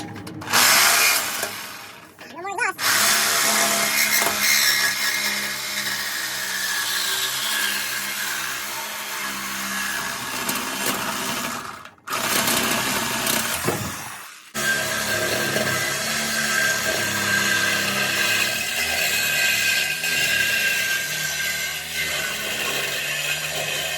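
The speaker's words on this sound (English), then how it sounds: "We got our beautiful Sawzall." Sawzall reciprocating saw cutting into a 2002 Chevrolet Silverado 1500 2WD during a lift kit install, loud harsh buzzing with rattly metallic grinding, running steadily in bursts with two brief pauses, no talking.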